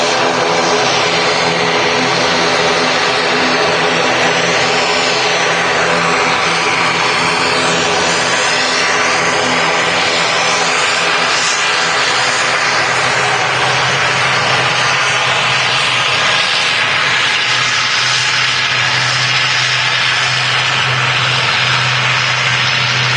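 A Loganair ATR 72 turboprop takes off at Manchester Airport, its engines producing a loud, sustained roar that holds steady throughout with no voices.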